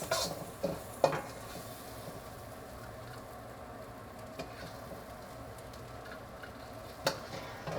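Shallots sizzle in hot oil in a wok as a Pad Thai cooks. A steady, quiet frying hiss runs throughout, broken by a few sharp clicks of a utensil against the wok.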